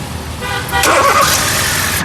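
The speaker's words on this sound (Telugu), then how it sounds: "సింగిల్ సెల్ఫ్లో కార్ స్టార్ట్ అవుతుంది ఎటువంటి స్టార్టింగ్ ట్రబుల్ అయితే లేదండి" A 2014 Hyundai i20 Sportz petrol hatchback starts on a single crank and settles into a steady close idle, with no starting trouble and no talk.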